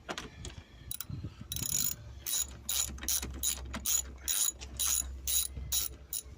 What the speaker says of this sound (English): we're just filming Andrew undoing these bolts for me